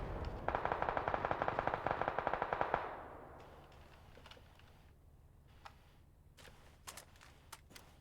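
Rapid bursts of automatic gunfire in the video game PUBG rattle loudly for a few seconds, followed by scattered single shots and clicks against a quieter background.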